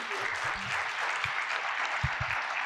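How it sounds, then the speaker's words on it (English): Audience applause for two speakers, Julia and Marina, at a women in business and law conference, a steady wash of many hands clapping throughout with a few low thumps beneath. "Another round of applause for them"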